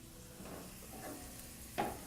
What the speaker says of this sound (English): We have our onions cooking, we have our quinoa cooking